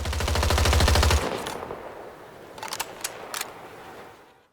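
Rapid mechanical clatter of an M16A3 assault rifle being reloaded in Battlefield 2042, a dense burst of quick clicks for about a second, then a few separate sharp metallic clicks and snaps of magazine handling.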